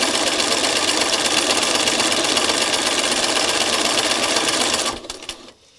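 A sewing machine runs steadily as it stitches back over existing thread on a craft piece, a close, continuous whirring hum that stops abruptly near the end.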